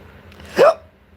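A single sharp hiccup from a tired person, loud and close, bursting out once in the middle of an otherwise quiet moment.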